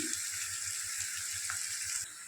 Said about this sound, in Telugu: ఇవి గోల్డెన్ కలర్లో వచ్చేంత వరకు వేయించుకుందాం కొంచెం కరివేపాకు వేసుకుందాం